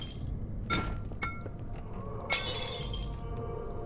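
Glass wine bottles shatter in the horror video game Amnesia, several sharp breaking crashes with tinkling shards, the loudest near the end, over a low ambient hum.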